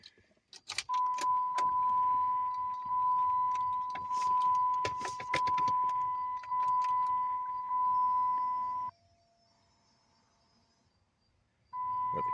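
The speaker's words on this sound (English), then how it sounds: "Got the Kenwood buzzing." A Kenwood car stereo in an abandoned Hemi Charger Daytona R/T buzzes with a steady, fairly loud tone right after the key is turned. Clicks and key jangles sound over it; the tone cuts out briefly, then returns.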